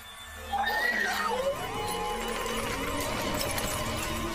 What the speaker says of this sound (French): Revoilà les horreurs aux cris perçants.